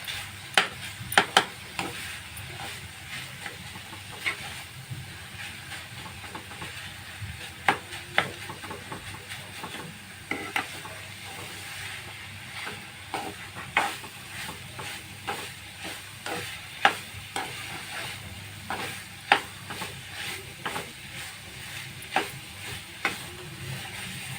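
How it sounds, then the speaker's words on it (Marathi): Mawa is sautéed with a sweet beet, carrot and coconut mixture in a pan. It sizzles softly under repeated close scraping and stirring strokes in an uneven rhythm, with no voices. "आता आपण मावा घालूया. तोही चांगला परतून घेऊया."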